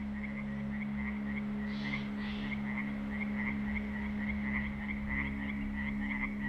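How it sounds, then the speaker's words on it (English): Frogs croak in a steady, overlapping chorus near a lakeshore among basalt towers, loud and continuous throughout with a low constant hum beneath and no voices. "Closer to the lake, the chirping birds that could be heard all day get drowned out by frogs."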